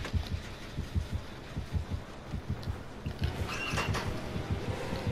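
The Dead by Daylight video game heartbeat warning throbs steadily in a regular double rhythm, low and muffled, with a faint rising hum underneath toward the end.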